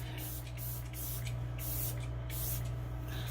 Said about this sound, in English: I'm going to go ahead and spray some setting spray on.